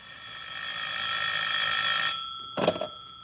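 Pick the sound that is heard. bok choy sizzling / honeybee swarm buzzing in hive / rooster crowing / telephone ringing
telephone ringing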